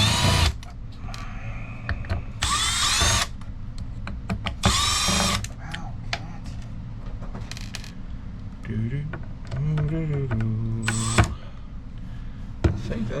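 A power drill whines in several loud, short bursts while backing screws out of a high-end circuit board during e-waste scrapping, with small metallic clinks and handling noises between the bursts.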